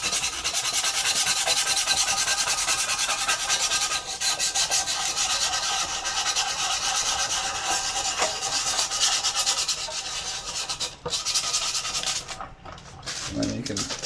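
A surface is roughed up with sandpaper while modifying a Zooka pitching machine: a close, continuous rhythmic scratching of rapid strokes that pauses briefly near the end.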